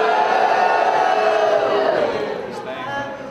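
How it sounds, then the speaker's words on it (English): Audience at a university poetry slam grand final booing the judges on cue: a loud, sustained mass of voices that holds steady and then slowly fades toward the end. "Let me get your best boo."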